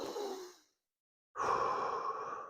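A woman doing a breathing exercise lets out a soft, slow exhale like a sigh, then goes silent for a moment before a fuller, breathy breath follows, close and quiet with no talking.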